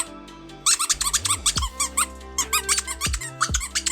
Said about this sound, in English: Oh, we got the squeaker.